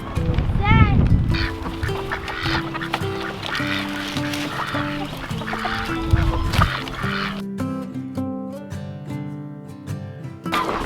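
Poultry cluck and squawk in a busy flock, with several overlapping calls, some duck-like quacking and a few voices talking in the background.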